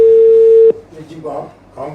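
A telephone line tone after a call back is hung up: a single loud, steady electronic tone lasting under a second, cut off abruptly, followed by a person starting to talk.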